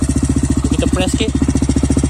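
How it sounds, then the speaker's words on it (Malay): An RFS150i motorcycle with a 32mm Espada exhaust throbs loudly up close in an even, bassy pulse, with a brief throttle blip and someone speaking over the engine midway. "So itulah bunyi exhaust espada 32mm."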